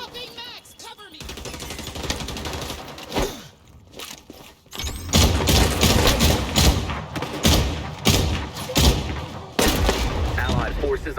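Rapid gunfire in a video game shooter, rattling bursts of shots with heavy thuds that start and stop over the clip, loud and close, mixed with a brief voice and game chatter.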